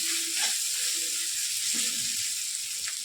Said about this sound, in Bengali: তো দেখো লঙ্কা বাটা আর রসুন বাটাটা মিশিয়ে দিলাম